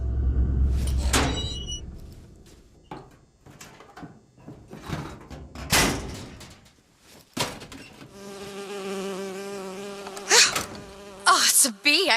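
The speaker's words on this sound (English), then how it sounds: "Oh, it's a bee." In the Bioshock Infinite video game, a bee's buzz comes and goes near the listener amid scattered game clatter and door-like thumps, ending in a sustained droning hum.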